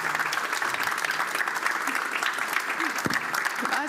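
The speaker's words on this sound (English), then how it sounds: "Let's applaud her." Audience applause after an ambassador's talk on U.S.–Mexico relations, a dense and steady clapping that fills the room evenly from start to finish, with faint voices underneath.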